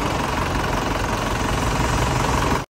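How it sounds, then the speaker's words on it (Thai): A rebuilt 2005 turbo engine with new cylinders, rings and valves idles in a steady, even drone that stays loud and close without a break, then cuts off abruptly at the end. "เสียงเครื่องเงียบมากเลยนะ"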